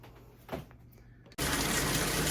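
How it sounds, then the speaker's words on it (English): A bathtub tap is turned on, and after a quiet moment with a small knock, water gushes loud and steady into the bath, close by. "So I'm going to go run some bath water"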